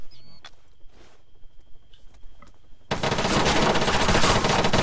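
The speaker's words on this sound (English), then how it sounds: "It's somebody firing at us from southwest." ArmA 3 gunfire erupts as a sudden, sustained loud burst of rapid automatic shots in the second half, after a quieter stretch of faint scattered clicks and ticks.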